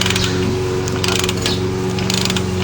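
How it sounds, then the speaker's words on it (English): A ratchet backs out a nut on the rear shock of a 2003 Nissan Xterra, a steady, loud, close run of rapid metallic clicks with no talking. "We're just backing out the nut."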